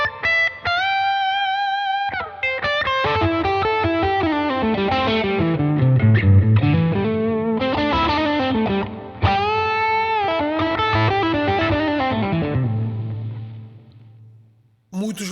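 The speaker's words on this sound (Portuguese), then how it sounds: "ao mesmo tempo ainda é doce e não é uma distorção, é um drive" An electric guitar plays through a Protein overdrive, a dual two-in-one drive pedal. Sustained, mildly driven notes and melodic phrases ring out loud and continuous, with a brief dropout near the end.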